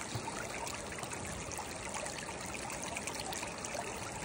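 Sand washed in water during gold panning, a steady close trickling and swishing of water and grit that runs continuously without pause.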